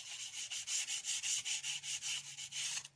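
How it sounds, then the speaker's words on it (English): Oiled sandpaper rubbed repeatedly over the sole of a spokeshave plane, giving a steady rhythmic scratchy sanding sound of about a dozen close back-and-forth strokes with no talk. "So I like to get some oil on some sandpaper, just give it a nice wee sanding round"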